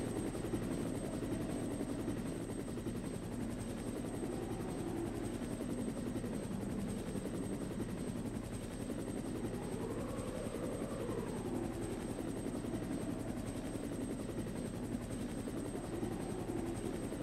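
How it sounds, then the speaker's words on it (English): A helicopter's steady rotor drone arrives in the Resident Evil Director's Cut game on PS1, a constant thrumming hum filling the whole stretch with a slight swell midway, no voices over it. "The helicopter's coming."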